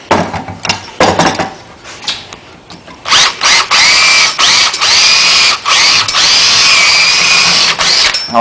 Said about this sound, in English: we're going to drill the cover off so that I can get to the ballast